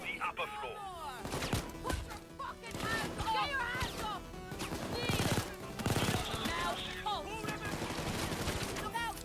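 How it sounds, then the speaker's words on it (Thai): An automatic gun in the heist shooter Payday 2 fires in rapid, loud bursts of shots, mixed with crashes and other clatter in a busy game scene. "เป็นปืนออโตมมติกนะผม"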